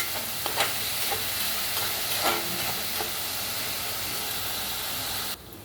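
Onions stirred with salt in a hot pan for palak paneer, giving a steady loud sizzle broken by a few scraping spoon strokes, then a sudden drop in level near the end, with no talking.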